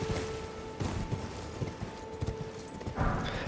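Rhythmic clip-clopping hooves of a horse in Elden Ring, moderately close, with a steady tonal hum underneath and no talking.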